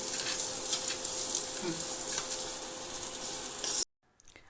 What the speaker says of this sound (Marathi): लसूण थोडासा आणि खोबरं व्यवस्थित थोडंसं परतून घ्या